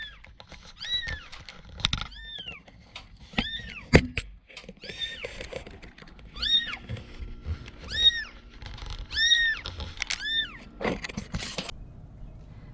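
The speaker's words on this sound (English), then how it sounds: "this little adorable kitten is the one we got out of the wall today" A small kitten rescued from inside a wall meows repeatedly, giving about ten short, high, evenly spaced mews at close range. Faint clattering and low background noise sit underneath.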